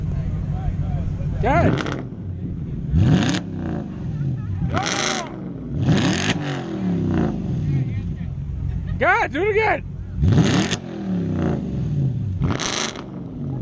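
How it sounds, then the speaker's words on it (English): Loud Audi cars rev hard at a car meet, with repeated sharp engine swells rising and falling about every second or two, while people nearby talk and react over the noise. "see how loud these Audis are."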